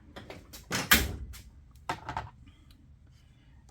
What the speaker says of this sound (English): That would be in this drawer.